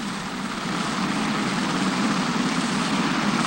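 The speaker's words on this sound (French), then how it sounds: "le mât est descendu sur sa base par l'hélicoptère qui joue le rôle d'une grue" A helicopter hovers close and loud with a steady rotor and engine roar while lowering an electricity pylon mast onto its base, serving as a crane; the noise holds unbroken throughout.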